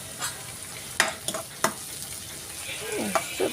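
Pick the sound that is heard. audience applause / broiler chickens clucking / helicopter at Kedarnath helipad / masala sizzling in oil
masala sizzling in oil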